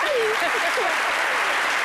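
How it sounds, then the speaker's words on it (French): A French television studio audience gives a brief burst of dense, steady applause, fairly loud, with a voice talking over the clapping. "Applaudissez un peu"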